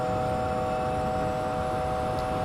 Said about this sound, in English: So the engines are spooling down